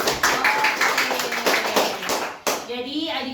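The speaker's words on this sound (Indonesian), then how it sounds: "Tepuk tangan dulu." A group of teenagers claps in rhythmic bursts of hand taps at a premarital health screening talk, with voices over the clapping before it gives way to a person speaking.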